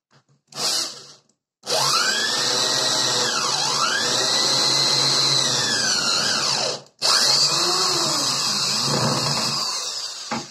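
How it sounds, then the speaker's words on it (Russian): A power drill drives a self-tapping screw into aluminum, a short burst then a sustained high whine with pitch dips as the bit bites, a brief pause, and another run, close and loud. "Итак, начнем с алюминия. Я здесь уже пробовал, но на ваших глазах сейчас проделаю новое отверстие."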